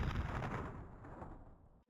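Gunshot in the video game Resident Evil 3, a single booming blast heard from its tail, a loud rumbling report that decays over about two seconds before cutting to silence.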